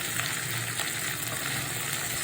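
Ingredients stirred in a hot pan for paneer masala dosa, a constant dense sizzle of frying with a faint scraping of the stirring utensil mixed in.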